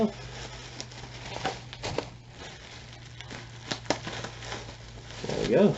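Paper wrapping being torn off the box of a JOYO BanTamP Zombie mini tube amplifier during an unboxing, a run of crinkling and ripping rustles close by, with a voice briefly present.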